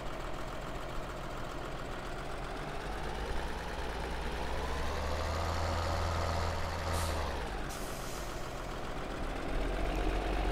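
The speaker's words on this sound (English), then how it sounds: "This is a nice big tractor" A big tractor idles in the Farming Simulator 2013 game, giving a steady low engine drone with a faint rumble that swells slightly partway through, with no talking.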